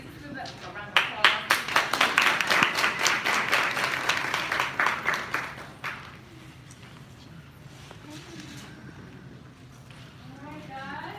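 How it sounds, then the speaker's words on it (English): Audience applause at a business networking event, with sharp, rhythmic claps close by for about five seconds before fading, followed by people talking. "let's do that. A round of applause."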